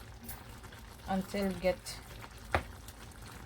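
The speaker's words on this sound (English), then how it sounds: "while it's boiling up like this" A pot of pepper steak sauce bubbles and simmers with a soft, steady hiss beneath a short stretch of talking, with a brief clatter partway through.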